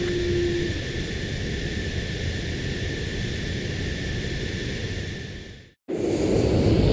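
Sustained jet roar of a fighter taking off in Ace Combat 7 Skies Unknown, a steady loud broadband rush with a high whine, cutting out abruptly near the end before resuming.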